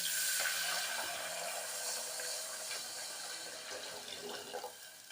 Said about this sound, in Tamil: அளந்து 3 டம்ளர் ஜலம் விடுறேன்.